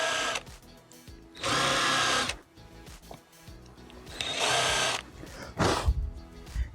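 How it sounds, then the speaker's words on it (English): A power drill fitted with a small countersink bit whirs in three short bursts up close, with quiet handling clatter in the pauses between them. "using a small countersink bit"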